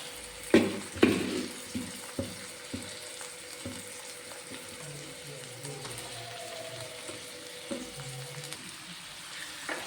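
Gooseberries added to a pan of spice powder and oil, a couple of sharp clatters as they drop in, then a soft, low sizzle with faint stirring knocks continuing quietly.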